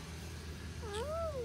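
A cat lets out a single drawn-out meow beside a backyard fish pond, close and fairly clear over a low background hum.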